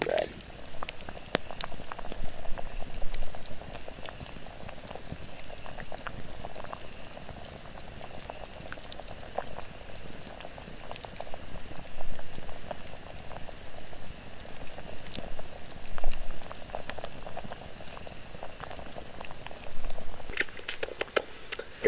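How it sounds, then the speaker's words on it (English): Pot of food simmering over a campfire outdoors, a steady soft bubbling and popping close by with scattered crackles, continuous and alone without talk. "It's simmering now."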